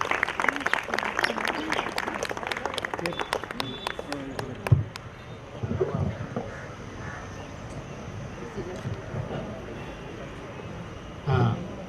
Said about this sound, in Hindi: ऐसे प्रेसिडेंट प्रवीण छेड़ा जी को हम अभी सुने जोरदार तालियों के साथ।